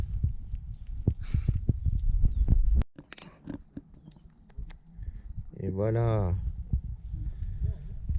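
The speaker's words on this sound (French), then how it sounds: "Le retour des chevaux." Horses returning across ground, their hooves clip-clopping in a steady walking rhythm at moderate distance, with someone talking over them and a horse's whinny rising near the end.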